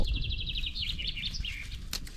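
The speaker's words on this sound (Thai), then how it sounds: "ได้ยินเสียงนก" Faint birdsong: quick repeated chirping trills from a small bird, over a low outdoor background hum.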